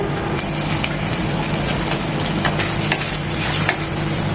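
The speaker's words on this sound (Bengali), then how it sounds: "চিংড়িটাকে একটু কষিয়ে নেব মশলার সাথে" Prawns sautéing with spices in a pan for a taro-root ghonto dish, a steady broadband sizzle with occasional stirring scrapes throughout, close and continuous with no voices.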